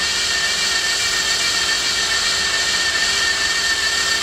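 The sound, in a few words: drilling with a dull drill bit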